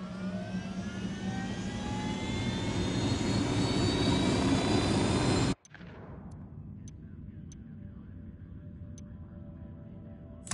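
Aircraft in the video game Ghost Recon Wildlands, a loud steady engine roar with rising tonal whine that cuts off abruptly midway, leaving a faint hum and a few scattered clicks.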